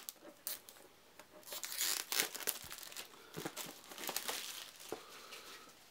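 Plastic shrink-wrap crinkles and tears as it is pulled off a 2016 Bezier Games One Night Ultimate Werewolf board game box. The crackling bursts are soft, close and irregular, with no speech.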